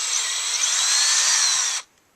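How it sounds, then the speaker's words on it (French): Power drill with a bit boring a hole into a maple tree trunk for tapping sap, a loud steady high whine running almost two seconds before cutting off abruptly, heard alone. "On prend une perceuse avec une mèche au bout. On perce un trou."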